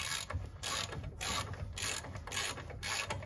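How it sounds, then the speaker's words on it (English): A ratchet is loosening the 19 mm brake caliper retaining bolts on a 2017 Toyota Hilux. It gives a close, steady run of rapid clicks in rhythmic back-and-forth strokes. "need to get the caliper retaining bolts out, which are down the back here"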